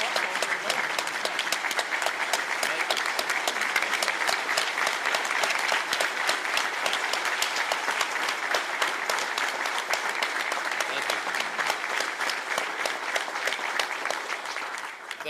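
An audience at a chamber of commerce congressional luncheon applauds to welcome Speaker of the House Mike Johnson. The clapping is dense and sustained, holding steady for about fifteen seconds.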